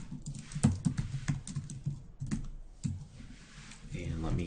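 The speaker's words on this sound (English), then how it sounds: "hit Control period on my keyboard" Someone types on a computer keyboard at a desk, producing quick, close, uneven bursts of clicking keystrokes, with a voice briefly heard near the end.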